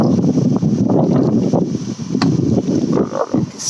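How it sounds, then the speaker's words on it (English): Gusty wind buffeting a microphone outdoors, a loud, close, rumbling roar that rises and falls continuously with no other sound standing out. "It's quite a windy day out there today"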